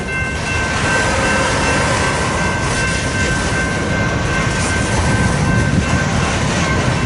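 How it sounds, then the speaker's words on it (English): A Union Pacific freight train rolling past near a rail yard, a dense, continuous rumble and rattle of wagons on the track, loud and steady throughout with no voices. "this train is well off into the yard over there"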